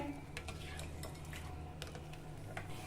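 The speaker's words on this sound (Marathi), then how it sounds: "आता आपल्याला हे व्यवस्थित मिक्स करायचं आहे" A spoon stirs a coconut milk mixture in a metal pot, giving faint scraping and clinking taps over a steady low background hum.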